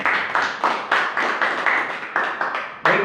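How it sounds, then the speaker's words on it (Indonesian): A small group at a children's reading podcast event in Bekasi claps in uneven bursts, roughly ten distinct close hand claps in an irregular rhythm, fairly loud and dry, with no talking over them. "Boleh tepuk tangan buat kita semuanya."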